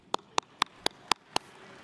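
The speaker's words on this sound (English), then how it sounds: "Excuse me while I applaud this one." One person clapping six times in a slow, steady rhythm at a university engineering graduation ceremony, each clap sharp and fairly close, with a quiet room behind.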